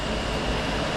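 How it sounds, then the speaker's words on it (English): A workshop fan runs loud and close, a dense broadband roar that fills the space evenly with no other sounds standing out. "I know that fan's probably killing the sound"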